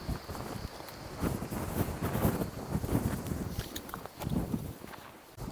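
Gusty wind on a summit climb on Çıfıt Island, İzmir, buffeting the microphone in low rumbling surges, with a faint rustle of movement underneath and no talking.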